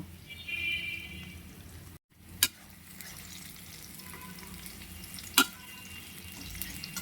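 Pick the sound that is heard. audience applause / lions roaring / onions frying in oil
onions frying in oil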